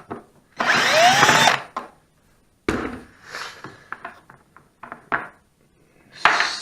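A power drill spins a bolt out of the cover on a Polaris Scrambler 500 quad during a rebuild. It opens with one loud whirring burst of about a second, then several shorter bursts and clanks follow, close by and with no talk.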